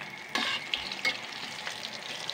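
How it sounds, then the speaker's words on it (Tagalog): Banana cue pieces frying in a pan as they are stirred, a soft steady sizzle broken by a few scraping stirs and light knocks, close and moderate. "Halo-haloin natin."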